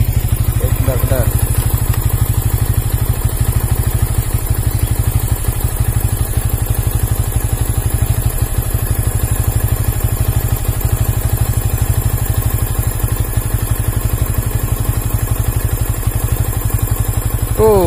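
A Yamaha Vixion New motorcycle engine idles at a low, steady, even rumble close by. Someone talks over the constant drone.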